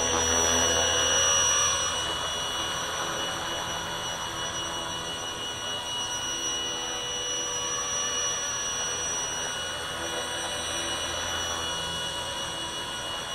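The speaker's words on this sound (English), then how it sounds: "the fiberglass shell is like a speaker, and it really cries a lot of noise" A Blade RC helicopter's motor whines steadily inside a fiberglass shell that amplifies it, with a loud constant drone and high tonal whine carrying throughout, no voices.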